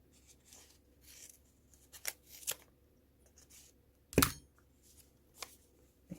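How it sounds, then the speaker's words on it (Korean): Scissors snip through knitting yarn in a few short, crisp cuts, with the loudest snip near the end, amid quiet handling rustle. "이제 여기 가위를 넣어서 잘라주시죠"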